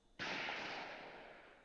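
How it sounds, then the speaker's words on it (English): In a visual novel game, a single sharp gunshot-like burst rings out and fades slowly over about a second and a half. "Gunshots?"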